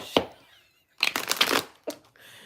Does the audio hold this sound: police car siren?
no